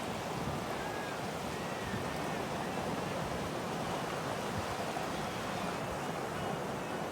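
A river in Sequoia National Forest rushes in an even, unbroken wash of water noise that holds constant throughout, with no distinct splashes or voices standing out.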